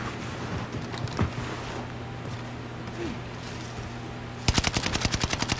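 Gunfire in a Call of Duty Warzone match on Caldera: distant scattered shots over a steady ambient hum, then a sudden loud, rapid automatic burst close by near the end.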